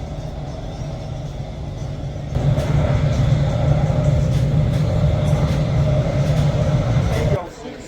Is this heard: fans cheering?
no